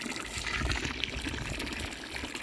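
Cold water is poured into a cooking pot at a village wood-fire kitchen, making a steady, continuous gushing splash throughout.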